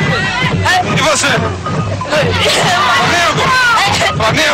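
Flamengo supporters roar and chant in the stands in Tokyo at the 1981 world championship, a loud, dense crowd with rising shouts and rhythmic calls.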